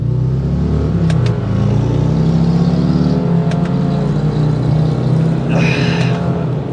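A 2023 Subaru Forester Wilderness engine revs and roars up steadily from a red light, a loud sustained rumble climbing in pitch as the SUV accelerates hard, with no talking.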